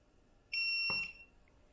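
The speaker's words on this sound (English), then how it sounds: "long press the transmitter till you hear a loud beep" A Hubsan Zino drone transmitter gives a single loud, shrill electronic pairing beep lasting about half a second, followed by a faint click, in an otherwise quiet room.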